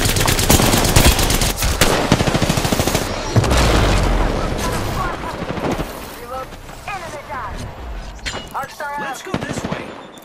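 Heavy close gunfire while under attack, rapid machine-gun bursts and single shots layered loudly over each other, tapering off with scattered shots and shouted voices toward the end.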